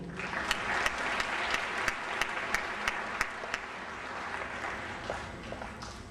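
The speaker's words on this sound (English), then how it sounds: "please give a round of applause for Steve Mitchell" A crowd at a Martin Luther King Jr. Day gathering applauds a man called up to present awards, steady sustained clapping from many hands at moderate distance, easing off toward the end as murmuring voices rise.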